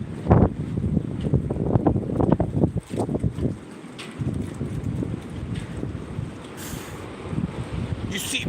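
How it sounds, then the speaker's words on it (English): Wind gusts outdoors, buffeting the microphone with a loud, rough low rumble that surges and dips throughout. "it's windy out."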